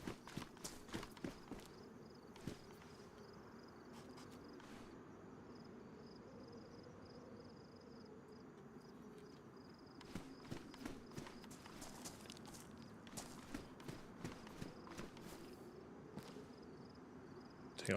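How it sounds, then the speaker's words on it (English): Footsteps in DayZ on the Chernarus coast, a steady run of soft crunching steps close by, with clusters of sharper clicks coming and going over a low ambient bed and no talk. "I think I keep hearing footsteps as well."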